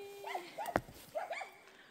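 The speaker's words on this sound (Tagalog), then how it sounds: "Nakakatuwa pero maingay yung mga aso." Dogs bark a few times at a distance, short yelps spread over a brief moment.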